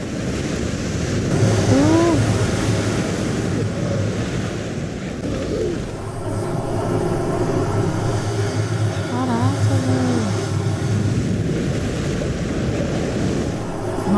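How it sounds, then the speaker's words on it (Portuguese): Strong rushing river current or waterfall from the war film 1917 roars steadily and loudly throughout, a dense continuous wash of water noise with faint voices and distant tones woven underneath. "Pode ser, ó, cachoeira também. Muito forte a água."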